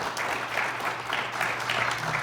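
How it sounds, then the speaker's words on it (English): An audience at a high school quiz bowl game between Marengo and Auburn applauds the competing teams, a dense, continuous wash of clapping with a low steady hum underneath. "A round of applause for them"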